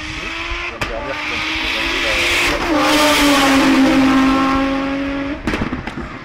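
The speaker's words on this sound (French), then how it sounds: "Allez Kevin, la BMW E46 de JZ qui corrige un petit peu, il est très rapide mais il est un petit peu en dehors de la ligne" BMW E46 drift car at a drift event: engine note climbs and sustains through a long slide with tire noise, passing fairly close, with crowd or commentary noise underneath.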